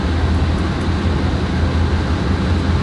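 Long freight train of hopper cars rolling past in Train Simulator 2013 on Marias Pass, a steady low rumble with constant broadband rail noise and no voices.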